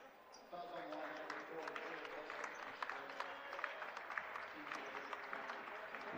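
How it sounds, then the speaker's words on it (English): Teammates and coaches give a standing round of applause at a college men's basketball championship quarterfinal game, a steady crowd of clapping sustained throughout at a moderate distance with sneaker squeaks and murmurs mixed in. "He gets a standing applause from his teammates and his coaches."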